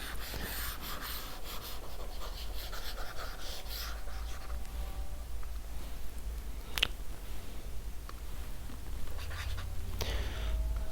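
Chalk or marker being erased from a classroom board, soft scraping rubs coming in uneven strokes over faint room hum, with no talking.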